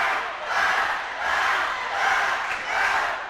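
Crowd at a high school boys basketball game in a gym cheers in sustained, swelling waves, a loud roar rising and falling about four times with no clear talk over it.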